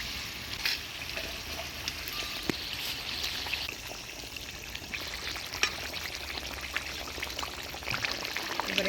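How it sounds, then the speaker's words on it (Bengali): Fried pangas fish pieces going into a simmering jute leaf curry broth with jackfruit seeds in a village kitchen, bringing a steady close sizzle and bubbling with soft splashes and stirring clinks, no talking. "এবার ভাজে রাখা মাছগুলা দিয়ে দিই।"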